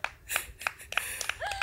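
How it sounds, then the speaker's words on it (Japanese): Scattered handclaps ring out on a golf course after a par, a handful of sharp, quick claps from a small group nearby, brief and uneven. "拍手が湧き上がってます"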